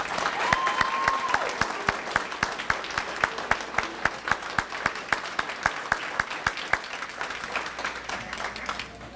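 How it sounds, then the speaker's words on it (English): Sustained applause at an AFJROTC awards banquet for award recipients, many hands clapping together with sharp, regular claps standing out near the front, holding steady throughout and easing slightly at the end. "Let's have a big round of applause for all of our award recipients."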